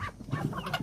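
Backyard farm chickens clucking close by, a steady run of short overlapping clucks and low fowl calls lasting under a second.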